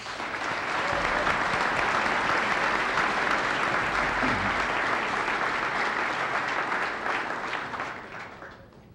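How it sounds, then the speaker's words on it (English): An audience at a press conference claps in a sustained burst of applause that holds steady for several seconds, then tapers off toward the end. "Let's give them all a hand of applause."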